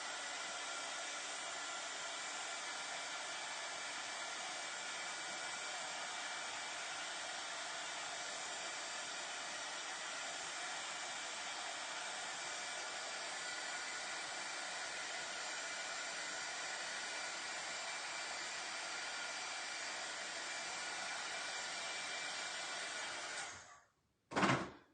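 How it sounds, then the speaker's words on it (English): A hair dryer blows on a craft piece, a steady, close whirring roar held for over twenty seconds, then cut off abruptly with a brief final burst as it switches off. "Let me dry this side just so it doesn't stick."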